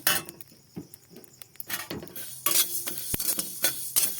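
Fennel and coriander seeds roast together in a pan while a spoon stirs them, giving irregular close scrapes and clinks against the metal over a faint sizzle.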